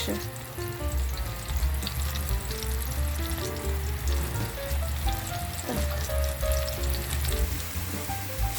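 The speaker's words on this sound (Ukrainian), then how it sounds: "Я одну частину обсмажу і поставлю тушити." Fish cutlets fry in a pan, a steady close sizzle and crackle running the whole time at an even level, with some light clinks of cookware over the top and no talking.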